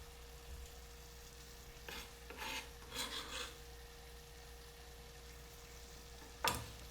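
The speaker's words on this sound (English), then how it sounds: "And stir that through." Chilies stirred through a thick keema masala paste frying in a pan, faint low sizzle underneath a few short rasping scrapes of a spoon against the pan, quiet and close, no talk.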